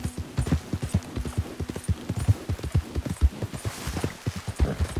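A horse's hooves clip-clop in a quick, steady rhythm in the Red Dead Redemption 2 video game, close and distinct, with a faint whinny and no talk over it.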